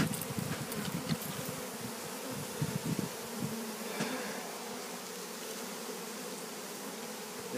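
A swarm of honeybees being caught in August buzzes densely and continuously at close range, with some louder individual passes near the start and no voices.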